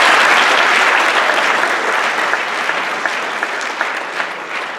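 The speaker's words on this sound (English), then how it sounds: "Give yourselves a round of applause." An audience claps steadily at a 2018 National Honor Society induction ceremony, a dense wash of applause that stays loud throughout and tapers only slightly toward the end.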